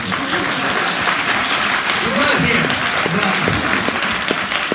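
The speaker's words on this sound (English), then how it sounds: "applaud my mom" Audience applause at a bookstore author talk, continuous clapping from a modest crowd filling the room, with a voice speaking briefly over it.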